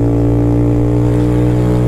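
A Vento Screamer 250 Sportivo cafe racer motorcycle accelerates to overtake, its engine droning loudly and steadily close by, holding a strong rumbling tone as it pulls.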